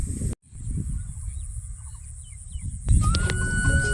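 A parrot tangled in a net squawks in harsh, abrupt bursts close by, with short chirps and whistling tones between the calls against rustling background noise.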